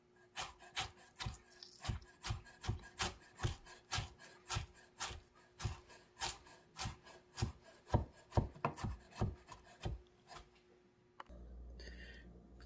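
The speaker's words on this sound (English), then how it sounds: "cut them right in a fine paste, oh, sorry, not fine paste, fine chopping, you know, very tiny" A knife chops ginger finely on a wooden board for samosa filling, a steady run of about twenty quick, close thuds, loud and alone, ending in a brief rustle.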